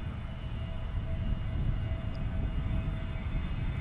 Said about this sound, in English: here's an Allegiant A320 taking off